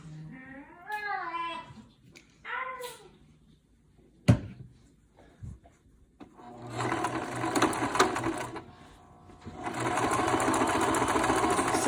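Sewing machine running a seam on a fabric face mask, starting after a voice and a few handling knocks, then whirring steadily in two long loud stretches with a short pause between.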